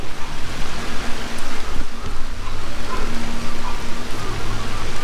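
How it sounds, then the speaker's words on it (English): Steady rain falls on a house construction site in the Philippines, a dense, even hiss that fills the whole clip without any voices. "We got a little bit of rain."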